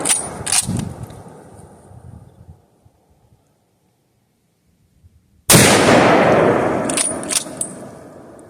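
Remington 7400 Woodsmaster rifle shots ring out: a couple of sharp cracks at the start, a stretch of near silence, then a loud blast with a long decaying echo followed by quieter pops.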